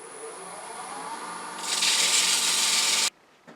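Sandpaper rubbed against a spinning wooden hollow form on a lathe, a steady scratchy rasp that turns harsher and louder partway through before stopping abruptly, leaving only a faint hum.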